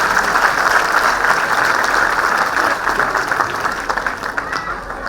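Parents at a school annual function applaud in a sustained, fairly loud burst of clapping that thins slightly toward the end, with no talk over it.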